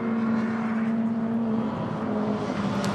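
Historic touring race cars cross the finish line at a 2019 Perth race: a continuous, loud engine drone with a steady tonal hum fills the clip, slightly shifting as the cars pass, with no talk.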